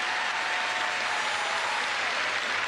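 Stadium crowd at Parc Lescure applauding and cheering as a footballer leaves the pitch in a top-flight match, a broad, steady roar of distant clapping and crowd noise with a commentator faintly underneath.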